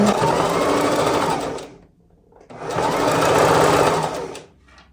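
A sewing machine stitches the hem of an off-the-shoulder top in two loud, close, continuous runs of rapid whirring, separated by a short pause.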